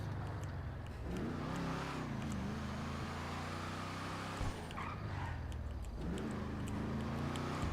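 A Declasse Voodoo car engine in GTA 5 rumbles steadily, its low tone rising and falling as it revs and eases off, with brief changes in pitch.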